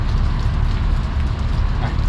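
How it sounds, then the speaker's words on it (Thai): Rain falls steadily outdoors, a dense, even hiss of drops with a low rumbling undertone, loud and continuous for the whole moment. "เดี๋ยวแป๊บนึงเดี๋ยวรอฝนหยุดมา"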